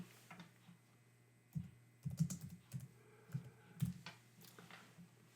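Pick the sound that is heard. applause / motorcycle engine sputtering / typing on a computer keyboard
typing on a computer keyboard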